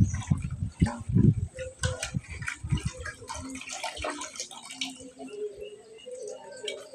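Water is poured over crab in a village kitchen to rinse it, giving close splashing, dripping and trickling that is strongest at first and then thins to scattered drips with light clatter.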